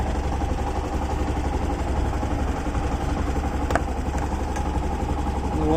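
A Honda Activa 6G scooter engine runs near and steady with a low, throbbing idle-like drone, and a few clattery ticks rise briefly partway through.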